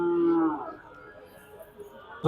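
At a busy cattle market in Shahpur, Khulna, a calf or cow lets out one loud drawn-out moo close by, followed by quieter market chatter and handling noises.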